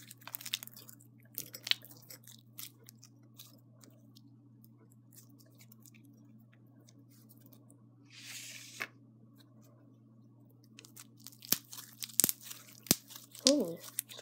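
Crunchy slime squished and mixed by hand, faint crackling and crinkling that grows into louder bursts of crunching near the end, close up and mostly alone.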